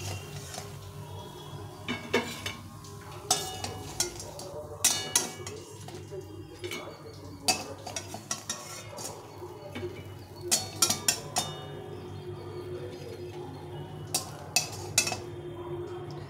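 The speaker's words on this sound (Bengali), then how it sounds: "তো এই বড়াগুলো ভাজা হয়ে গেছে, উঠিয়ে নিতে হবে।" Scattered metallic clinks of a utensil against a frying pan as fried gandha leaf fritters are lifted out, with a faint steady hiss of cooking underneath.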